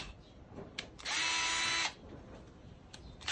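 A cordless drill, just repaired and fitted with its battery, spins up in one short, loud whir of about a second, then stops, leaving quiet room sound.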